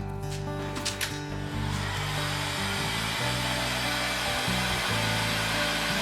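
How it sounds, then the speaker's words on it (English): A heat gun blows a steady, loud whooshing drone while warming a wooden estate tobacco pipe, its hum shifting slightly in pitch as it moves, with a few faint knocks early on. "you get the heat gun onto it, and just dab it on there"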